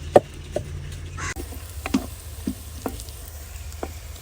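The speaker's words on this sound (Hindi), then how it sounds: "साथ साथ इसमें भी चम्मच चलाते जाएंगे।" Chopped onions sizzle steadily in a pan for a spinach dish while a spoon stirs them, with sharp clinks and scrapes of metal against the pan at irregular moments over the constant frying hiss.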